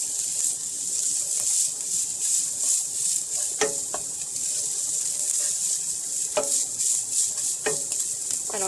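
Salted bolognese sauce being stirred in a pan, a steady sizzling hiss throughout with a few sharp scraping clicks of the utensil against the pan, no talking.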